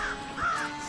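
A crow in the game Tearaway Unfolded gives two harsh, nasal caws close up, the second one louder, over a soft background hum.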